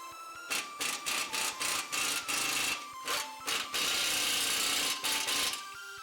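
Bolts on an F-150's tie rod and coilover suspension are run down with a power tool in short repeated bursts, then one longer run, close and loud with no talking.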